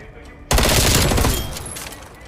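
Rapid automatic gunfire in Call of Duty Black Ops Cold War breaks out suddenly after a quiet lead-in, a loud sustained burst of shots that tails off slightly toward the end.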